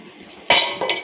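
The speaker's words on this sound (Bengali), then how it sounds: "ঢাকা চাপা দিয়ে দেবো" A lid set down on a cooking pan of simmering spiced tomato masala: a sudden close metallic clank followed by a couple of lighter rattles as it settles.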